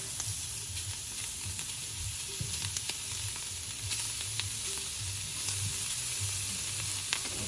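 Roast beef sizzles steadily on a hot griddle, a constant close hiss and crackle with small pops scattered throughout and no talking.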